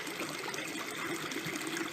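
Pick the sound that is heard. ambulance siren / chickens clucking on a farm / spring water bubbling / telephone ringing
spring water bubbling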